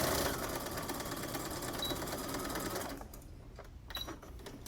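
A sewing machine runs a steady rapid stitch along a fabric face mask seam for about three seconds, then stops, leaving quieter mechanical clicks.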